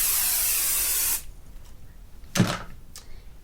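A spray bottle misting fabric for a sewn Minky baby blanket: a steady hiss of spraying for about a second, then a pause and a short louder handling thump, nearby and with no talk.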